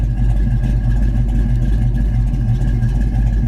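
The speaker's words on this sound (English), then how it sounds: "It's got Flowmaster dual exhaust. Exhaust sounds great on it." A 1985 Ford Mustang GT engine runs steadily with a deep, throaty Flowmaster dual exhaust rumble and no clear rev spikes, loud and close throughout.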